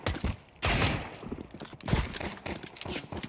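Gunfire in Counter-Strike 2, a quick sequence of sharp shots and thuddy impacts with a louder burst near the start and scattered shots after.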